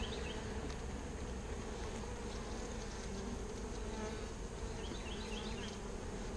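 A dense, continuous buzzing of many bees at an open hive with brood frames hums steadily throughout, close by, with no other sounds breaking through.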